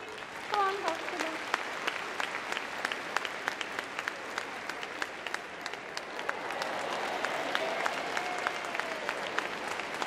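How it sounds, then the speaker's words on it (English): Sustained audience applause at a dog activities display at Crufts 2012, a dense, steady patter of many hands clapping throughout, with brief whistles and a voice audible early on. "Let's give a big round of applause."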